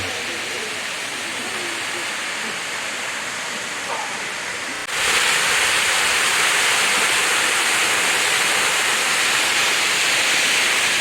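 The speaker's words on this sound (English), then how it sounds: "A 100 feet of falling water." Bonita Falls, a 100-foot waterfall still flowing strongly, gives a continuous dense roar of falling water that grows noticeably louder and closer about halfway through.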